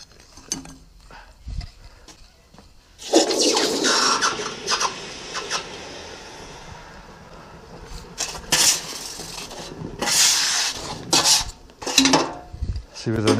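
Metallic clanks and scraping lead into a sudden loud hiss and bubbling as a hot aluminium casting plunges into water, with further sharp hisses and knocks following.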